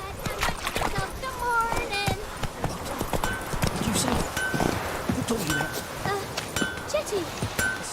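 Hoofbeats of a galloping horse in The Witcher 3 clatter steadily for the whole stretch, with faint clinks and a voice speaking over the rhythm.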